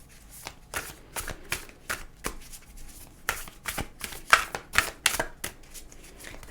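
Tarot and oracle cards being shuffled in a quick series of crisp riffles and slaps, close and fairly loud, with short bursts repeating across the whole stretch and no voices.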